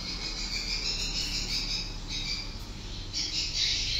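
Swiftlet chick calls played from a speaker inside a swiftlet building, a steady, dense high-pitched chirping chatter that runs without a break, with slight surges in intensity and no talking.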